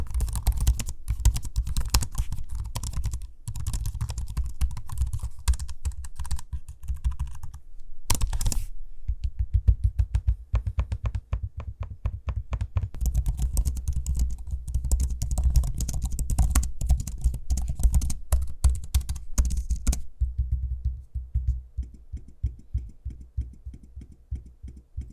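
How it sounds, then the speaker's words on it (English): Close, rapid clicking of laptop keys being typed in irregular bursts, with occasional trackpad clicks and brief pauses, no voices. "here's a sample of the trackpad and the keyboard in use so you can hear what that sounds like"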